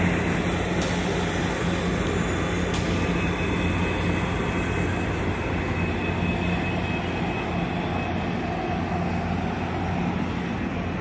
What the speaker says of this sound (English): My God, it's a long train.